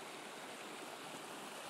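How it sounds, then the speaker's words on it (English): A small mountain stream in Shenandoah National Park runs moderately, producing a steady, even rush of flowing water heard up close with no voices. "it's kind of a nice little stream. Not really running very nice, but running okay,"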